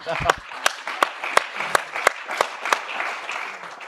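Rhythmic clapping in time, around ten evenly spaced claps, at an intergenerational church dialogue gathering, with a voice talking underneath.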